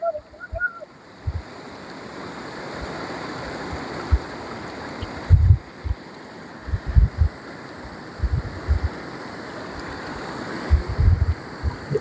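A river burbles over stones through green Konkan countryside, a steady close wash of flowing water with wind buffeting the microphone and occasional low thumps.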